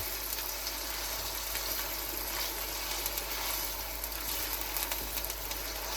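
Onions frying in a pan over a medium flame give a steady, even hiss throughout, with no voices over it.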